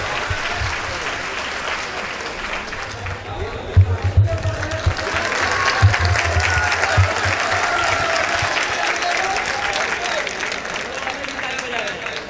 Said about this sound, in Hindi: इसके हाशिम फिरोजाबादी के लिए एक बार जोरदार तालियां बजाकर उनका इस्तकबाल करें।